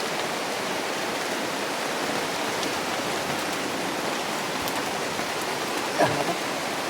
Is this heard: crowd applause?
no